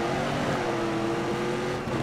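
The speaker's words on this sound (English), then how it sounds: "Full throttle." A car engine held at full throttle, a loud, dense, steady roar with a strong buzzing drone and little variation, close by, with no talk.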